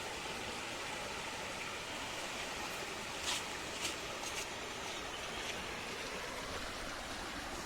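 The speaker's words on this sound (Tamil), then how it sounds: "தண்ணி அருவியா கொட்டுது." Visharam waterfall near Vellore, Tamil Nadu, pouring down in a steady, dense roar of falling water, close and continuous, with a few brief splashy bursts and no voices.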